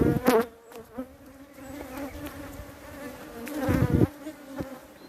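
Honeybees buzz steadily around a beekeeper's bare hands, a continuous droning hum with individual bees swelling louder as they pass close, near and persistent throughout.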